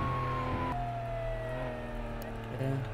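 Emergency vehicle siren in the Flashing Lights video game, a steady wailing tone gliding down in pitch over a continuous engine drone, fairly loud, with a short change in tone near the end.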